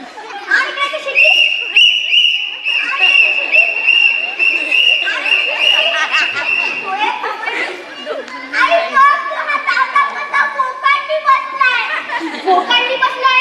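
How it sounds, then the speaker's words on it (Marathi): A whistle sounds a long, steady tone amid lively children's voices arguing and chattering, then the talk carries on over scattered shrill notes. "आणि इकडे ती शिटी."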